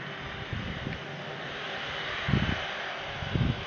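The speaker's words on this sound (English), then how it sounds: "There he goes, on taxi, heading for taxiway whiskey" An airliner taxis toward a taxiway behind Pier A at Brussels Airport, heard from an observation balcony as a steady, moderately distant engine whine and rumble with a couple of louder low swells near the end.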